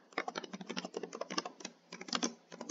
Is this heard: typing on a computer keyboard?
yes